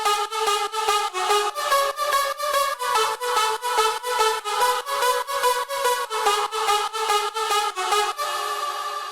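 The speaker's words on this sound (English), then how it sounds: "So this is the drop lead actually." Heavily distorted synth lead playing the drop melody, bright and buzzy with a steady pulsing rhythm of repeated chopped notes, loud and alone, easing off into a sustained tail at the end.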